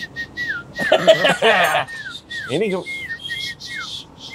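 Someone whistles in short, rising and falling chirps, repeated in bursts among lively conversation and laughter from several people.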